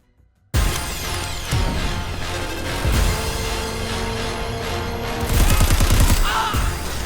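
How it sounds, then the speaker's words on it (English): Dense, chaotic gunfire from the open-world shooter Crackdown 3, with rapid bursts and repeated shots layered over explosions and game noise, loud throughout with a heavier barrage near the end. "Point, shoot, drop him."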